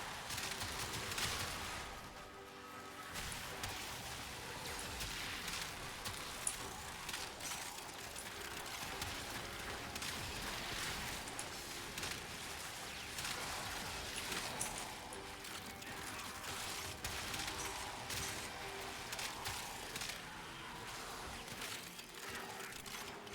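Gaze primary kitgun firing in Warframe, a continuous crackling buzz of beam fire with rapid ticking and mechanical clatter, steady and fairly quiet throughout amid game effects.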